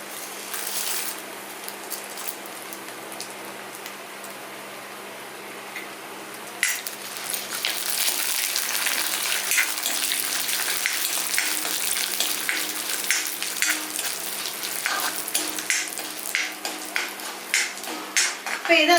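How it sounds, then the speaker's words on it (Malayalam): Urad dal and chana dal frying in hot oil, stirred in a pan: a quiet start, then loud, continuous crackling sizzle with scraping and clinking of the spoon, close and busy, with no voices. "നമുക്ക് അതിലേക്ക് ഉഴുന്നുപരിപ്പും കടലപ്പരിപ്പ് അല്ലെങ്കിൽ സാധാരണ പരിപ്പ് ഏത് വേണേലും ഇട്ട് നമുക്ക് അത് വറുത്തെടുക്കാവേ"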